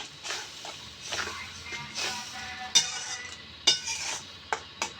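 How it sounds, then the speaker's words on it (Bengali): Ground chilli, coriander powder and salt get stir-fried in oil for a taki fish curry, a soft sizzle under repeated spatula scrapes and a few sharp clinks against the pan, quiet and close. "মশলাটা ভালো করে কষিয়ে নেবো এখন"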